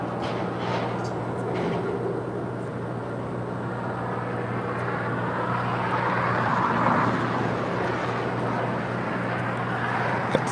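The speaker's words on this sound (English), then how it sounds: "That is DHL Flight 962 departing to Cincinnati" A DHL Boeing 777 freighter, about ten years old, departs from LAX, its engines a steady, loud broadband roar that holds throughout and swells slightly midway.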